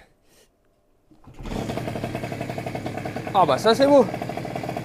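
A Bidalot 50WR 50cc moped engine catches at about 1.3 seconds and then idles steadily with a buzzing, rapid rhythm, close and fairly loud, while someone talks briefly over it near the end.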